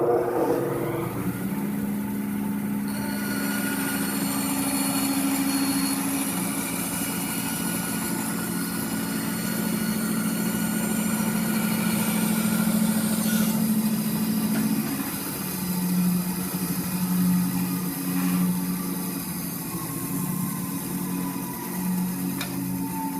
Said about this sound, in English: When you're done using the bandsaw, just like with any other project, wait for it to slow down before you move any further.